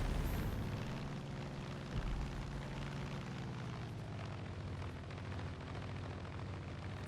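Loud, dense rumble of a plane coming down onto a runway in Far Cry 5, a steady broadband roar with heavy low end and a few thuds, continuous for the whole stretch.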